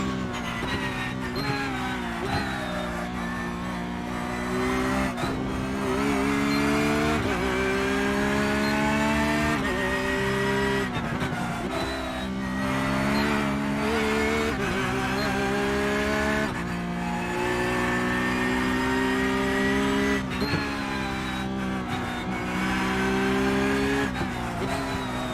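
NASCAR Cup Series cars racing on the Charlotte Roval road course, engines roaring loud and continuous, rising and falling as they accelerate and shift, with tires squealing through the corners.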